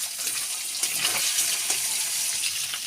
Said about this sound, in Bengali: কড়ার মধ্যে দিয়ে দেবো ডিমগুলো একে একে সব দেওয়া হয়ে গিয়েছে। এবার একটু লাল করে ভেজে নেবো।